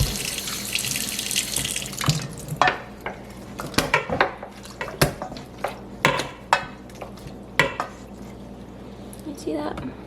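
Water runs from a tap into a white sink while homemade butter from raw cow's milk is rinsed and smashed, with repeated knocks and clatters of a utensil or bowl between the steady splashing.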